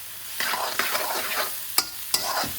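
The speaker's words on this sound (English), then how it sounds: "I want the onions to caramelize and soften up." Onions frying over medium-high heat in a cast iron karahi, a steady sizzle broken by the scrape of a utensil stirring, with two sharp metallic clinks near the end.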